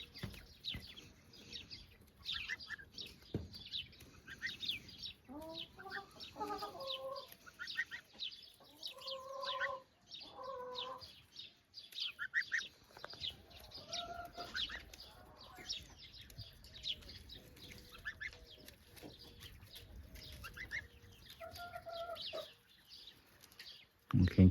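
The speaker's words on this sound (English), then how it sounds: "the goose is eating grass and other plants while the chicken look for bugs" Chickens foraging for bugs on a farm in early summer alongside a goose make soft scattered clucks and murmurs at close range over a low outdoor background.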